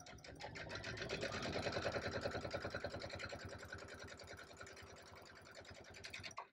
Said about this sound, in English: we're going to sew it at a quarter inch